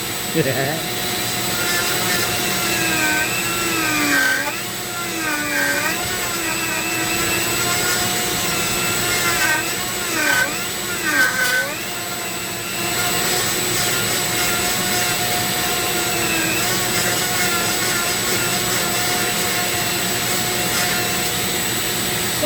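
A Dremel rotary tool with a burr carves purpleheart wood into a pumpkin shape, giving a loud, steady high whine that dips and rises in pitch as it bites into the wood, with brief speech mixed in.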